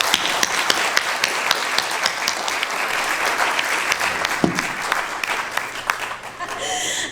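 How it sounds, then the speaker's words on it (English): A large audience at a Queen Mother Moore legacy symposium gives sustained, dense applause that holds loud throughout, with a few scattered louder claps and some crowd murmur and voices mixed in toward the end. "can we give a warm round of applause to Dr."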